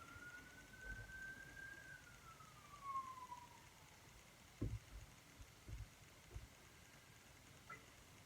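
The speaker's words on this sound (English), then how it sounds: "Pardon the sirens." Emergency vehicle sirens wail in the distance, faint and thin, sweeping up and down for a few seconds over quiet background noise with a few soft knocks.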